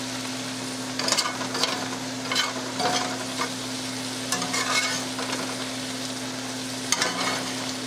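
Wild turkey meat and vegetables stir-fried in a pan, a steady close sizzle throughout with intermittent scraping and clattering of a utensil stirring the food.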